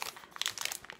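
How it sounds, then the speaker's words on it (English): Cellophane wrapping is pulled off a bunch of flowers, giving a close, busy run of crinkling and crunching that carries through the whole second with no talk. "take them out of the packaging"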